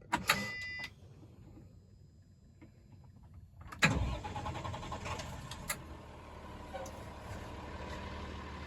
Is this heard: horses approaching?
no